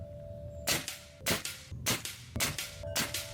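A Crosman Magfire Extreme .22 multi-shot air rifle fires pellets, five sharp cracks spaced about half a second apart, each with a brief ringing tail, close and distinct against a quiet background.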